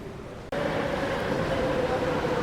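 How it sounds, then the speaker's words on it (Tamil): Rapid KL metro train arriving at a station in Kuala Lumpur: after a brief quiet moment, a loud continuous rumble cuts in with a sustained whining tone above it, holding steady. "அந்த ரேப்பிட் கேஎல் வந்துருச்சுங்க ஸோ இதுதான் நம்ம அந்த கொம்பாக் போகக்கூடிய அந்த ட்ரெயின்"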